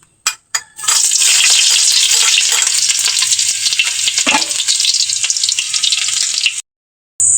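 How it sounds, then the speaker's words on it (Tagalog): Onion and garlic hit hot oil in a wok over a wood fire and burst into a loud, continuous hiss that lasts several seconds. A few sharp clatters come first, and the sizzle stops abruptly near the end. No one speaks. "Isasalang ko na ang sibuyas bawang."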